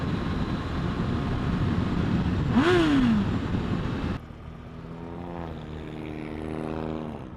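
A Harley 1200 Sportster motorcycle accelerating during a street race against a Lexus IS200: a loud, close engine roar with a rising pitch sweep, cut to a quieter steady engine drone, with no talk.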